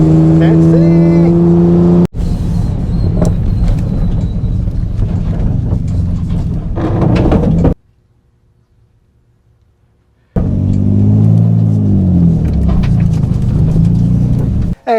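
A Nissan 350Z on BC Racing coilovers drives around a neighborhood, giving a steady road and engine rumble under a person talking. It cuts to near silence for a few seconds midway, then resumes.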